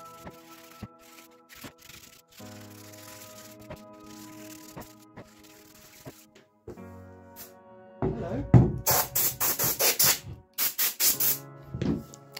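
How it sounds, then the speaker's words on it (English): Wooden joints are gently sanded by hand during a farmhouse restoration, with a quiet stretch and faint knocks giving way to a series of brisk, loud rasping strokes near the end. "So a little bit of a gentle sand just to make sure all the joints are in line"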